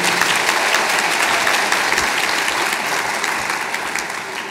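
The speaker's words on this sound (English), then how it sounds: "Let's give another round of applause to Dr." A hall audience at an achievement celebration applauds for a university president, a dense, steady wash of clapping that carries evenly throughout and tapers slightly at the end.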